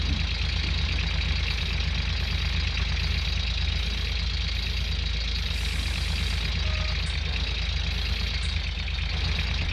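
A tractor engine in the mining video game Gold Rush The Game runs in a steady, continuous idle with a low rhythmic knock, close and even throughout, no talk over it.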